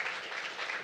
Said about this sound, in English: One more round of applause, or please just continue for our high school poets and for Yalie, Kamara.